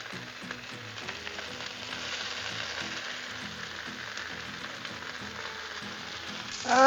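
Burgers and buns sizzle on a Blackstone griddle in a steady, close, crackling frying hiss that carries evenly throughout, with no voices.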